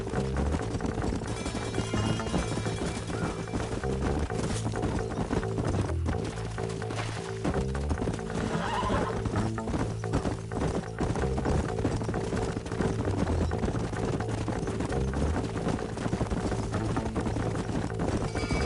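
Horses' hooves clip-clop in a PS4 western video game: a steady, continuous hoofbeat rhythm under a dense wash of music and ambient game sound, with no talking.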